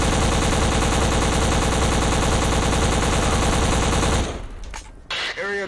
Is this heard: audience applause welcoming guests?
no